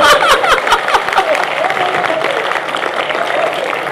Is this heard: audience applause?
yes